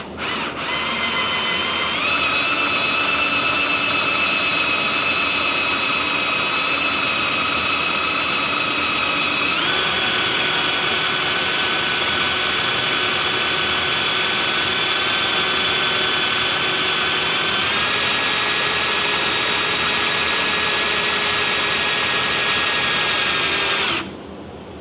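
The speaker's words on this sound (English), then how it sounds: "Now we can spin the winch or gearbox or whatever you want to call it up and down." A cordless drill driving a ceiling storage winch gearbox, a steady loud whine that runs continuously for over twenty seconds, its pitch stepping up slightly a couple of times before cutting off abruptly.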